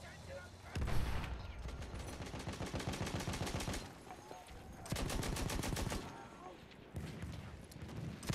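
Battlefield 1 gunfire crackles in two loud bursts of rapid automatic shots, each lasting a few seconds, separated by a short lull.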